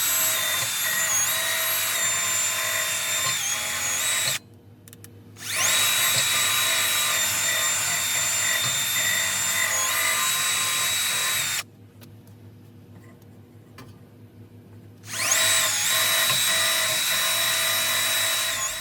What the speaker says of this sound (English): this brush wheel, and then I'm just going to go up and down and around to get that shaft nice and clean